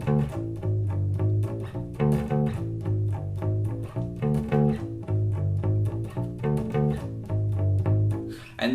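A bass guitar plays the varied bass line from a song, repeating deep, steady notes in a driving rhythm, loud and close with no talking.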